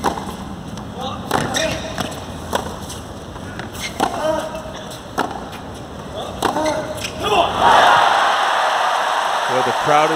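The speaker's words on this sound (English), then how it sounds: "The crowd is really into it now, Al." A tennis crowd cheers and roars at a US Open semifinal between Djokovic and Federer, sustained broadband noise with claps, swelling louder near the end while a commentator talks over it.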